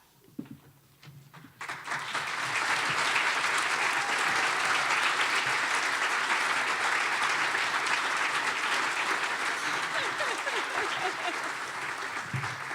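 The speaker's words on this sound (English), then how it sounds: "just one more quick round of applause for our cast and crew" A theatre audience breaks into loud, sustained applause for a cast and crew at a stage show, clapping swelling quickly after a few scattered claps and holding steady, with a voice and some cheers in the crowd.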